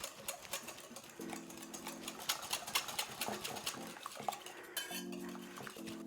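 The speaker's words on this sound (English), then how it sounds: "And now we're going to whisk in the gelatin." Whisk clatters rhythmically against a metal bowl as gelatin is beaten into pastry cream for Dutch tompouce, a steady scraping, tinkling rattle close by with brief harmonic hums between strokes.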